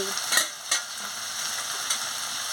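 Ridge gourd curry being stirred in a pan with mustard paste, giving a steady close sizzle broken by a few sharp scraping strokes of the spoon, with no talking.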